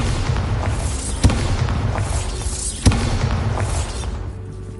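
Bombarda blasting spells in Hogwarts Legacy go off as two sharp booming explosions about a second and a half apart, each with a rumbling tail, over a steady layer of game ambience.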